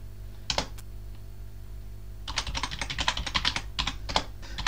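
Keystrokes on a computer keyboard enter a Linux terminal command, a lone pair of taps followed by a close, rapid burst of clicky typing with brief pauses, over a low steady hum.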